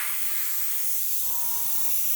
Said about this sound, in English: I can spray that down lovely.